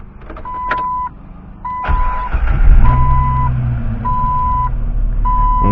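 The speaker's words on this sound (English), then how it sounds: "we're going to go ahead and start it and make sure that it runs properly, doesn't come off." Car engine starts and runs steadily after a serpentine belt replacement, a low engine rumble rising after a couple of seconds while a regular electronic beep repeats at even intervals throughout.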